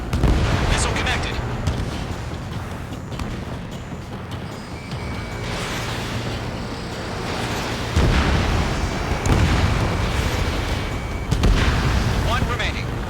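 Missile explosions and heavy booms during an Ace Combat 7 air battle, loud rumbling blasts hitting in waves over a constant jet roar, with game radio chatter mixed in.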